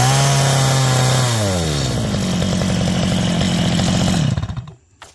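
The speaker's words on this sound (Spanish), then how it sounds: "la motosierra pues arrancó sin ningún problema." A warmed-up chainsaw, pulled from its start mode, catches and runs loud and close, its engine dropping from a high whine to a steady idle before cutting off abruptly near the end.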